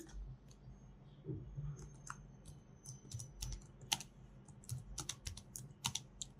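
Rapid keystrokes on a computer keyboard while text is entered in an editing program, quick uneven clicks in short bursts over a low background hum, close and clear with no talking.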